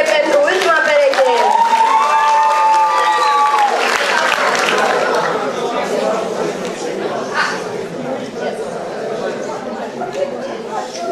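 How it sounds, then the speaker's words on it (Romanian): A crowd claps and cheers loudly, with voices chattering and a speaker talking over the applause, which gradually thins toward the end, for the last couple at a freshman ball. "Aplauze pentru ultima pereche!"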